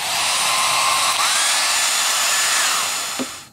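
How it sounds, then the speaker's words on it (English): A hand-held hair dryer blows close and loud in a steady high whoosh, drying cement-colored paint brushed into the joints between laid bricks, its pitch wavering slightly before it tails off. "And you get the hair dryer."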